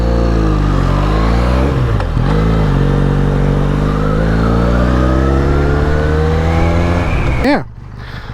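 Harley-Davidson X500 motorcycle engine drones loud and close on a road ride, rising and falling through gears with a steady climbing pitch before dropping off abruptly near the end.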